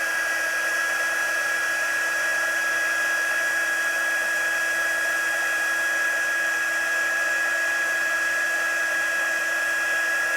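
A heat tool blows steadily to melt embossing powder on a handmade card, giving a continuous whirring hiss with a fixed high whine, close and unbroken throughout.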